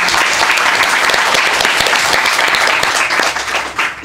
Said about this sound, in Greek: Να χειροκροτήσουμε, νομίζω.